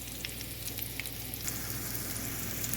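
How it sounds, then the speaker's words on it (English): Small thawed meatballs sauté and brown in a pan, giving a soft, steady crackling sizzle with light scattered pops and no one talking. "what I'm doing here is just sauteing these until they are thawed out, and I want them to be nicely browned"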